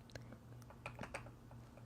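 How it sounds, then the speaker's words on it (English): Keys on a computer keyboard tapped at a steady typing pace, scattered soft clicks with a few sharper strikes, quiet and close against a low hum. "This, I think, was the speed I was typing in the video."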